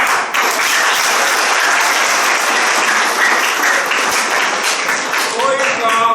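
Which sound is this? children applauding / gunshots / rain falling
children applauding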